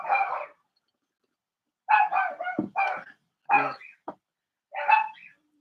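A dog on a porch barks loudly and close by, first with a single bark and then with several clusters of sharp barks separated by short silences.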